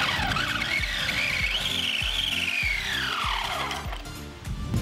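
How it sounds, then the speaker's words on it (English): A motor revs hard while driving a 3D printed gear, a loud, continuous whine and grinding rumble with a rising then falling pitch sweep and a rapid repeating rhythmic chug underneath, close by with no talk. "Let's rev it up and see how well it works."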